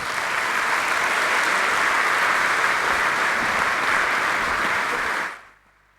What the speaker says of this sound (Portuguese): Uma grande salva de palmas